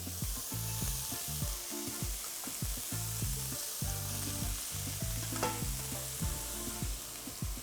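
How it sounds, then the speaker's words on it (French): Onion sweating in fat in a pan with spice powders added, a steady close sizzle and crackle with repeated scraping strokes of stirring throughout. "On fait suer notre oignon, puis on va mettre les poudres pratiquement en même temps."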